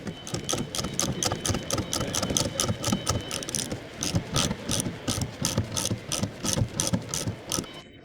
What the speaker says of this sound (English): Keep turning the threaded shaft clockwise. Then, the hooks are compressing the spring.